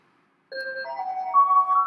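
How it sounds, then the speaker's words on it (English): A telephone ringing with a melodic electronic ringtone, clear sustained tones stepping through a short tune, close and alone after a moment of silence. "I have the phone ringing"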